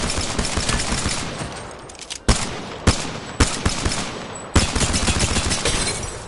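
Kraber sniper rifle shots in Apex Legends: several heavy, sharp reports, each standing out above a dense, continuous roar of in-game gunfire.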